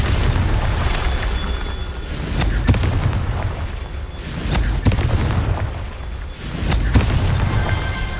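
Confringo blasting spell explosions in Hogwarts Legacy, a run of loud booming blasts and rumbling bursts, several in succession, set against dense, noisy game action.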